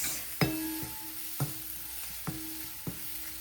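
Turmeric is stirred into a pan of hot oil while cooking Gujarati kadhi. A soft sizzle runs under four sharp, close spoon knocks against the pan, spaced about a second apart.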